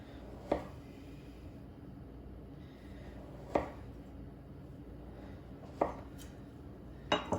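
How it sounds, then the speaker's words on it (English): A sharp knife cuts through chilled ice box cookie dough rolled in a pinwheel pattern, each slice ending in a crisp tap on the board; four separate cuts come at slow, uneven intervals over a quiet background. "You want a sharp knife to cut through the dough and not to affect your pattern"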